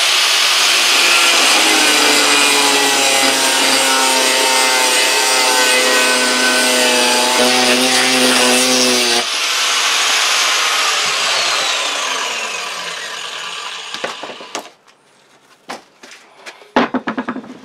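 A power saw screams steadily through a metal flag pole bracket for a Land Rover in a garage, its tone shifting as the cut proceeds, then it winds down into a few knocks and clatters.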